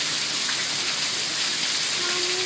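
Heavy rain pours down steadily, a dense constant hiss of drops on surfaces close by, with no talk over it.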